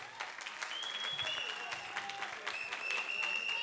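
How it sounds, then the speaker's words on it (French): An audience at a televised talent show contest applauds steadily, a dense wash of clapping throughout with a few faint whistles mixed in. "On peut applaudir pour elle, s'il vous plaît."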